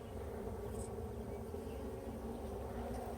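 Honeybees buzzing during a beehive check, a dense low steady drone filling the space, close and continuous without pause, with no voices over it.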